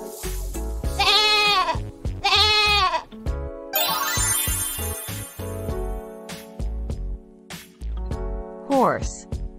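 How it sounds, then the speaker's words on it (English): A goat bleats twice in quick succession, loud and close, with wavering calls, followed by a brief high rattling jingle and another short bleat near the end, set against a farm-animal sound backdrop. "Goat."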